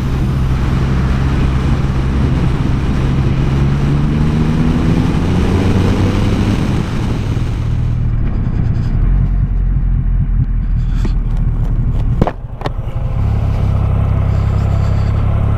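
A Triumph car driving over a corrugated dirt road, heard as a loud, continuous rumbling drone with rattling for several seconds, then easing into a quieter run punctuated by a few sharp knocks and clunks.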